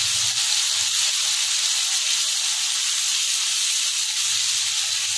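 Onion and tomato sautéing in a hot pan for a black chickpea soup, a constant loud steamy hiss and sizzle close up, unbroken and without talk.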